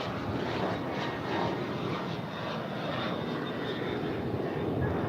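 Airliner taking off from runway 25 right at LAX, a steady, loud engine roar that fills the whole stretch without pause.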